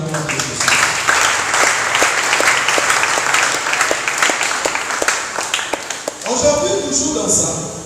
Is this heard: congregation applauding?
yes